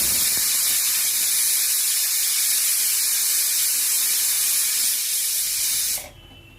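Steam hissing from a pressure cooker, a loud, continuous close hiss that holds steady for about six seconds and then cuts off abruptly.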